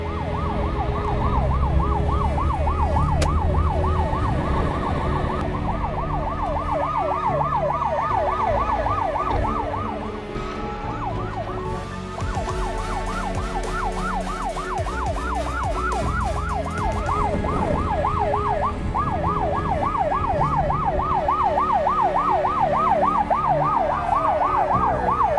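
Several fire engine and ambulance sirens wail continuously with fast, overlapping rising and falling tones, loud and close, over a rumble of traffic.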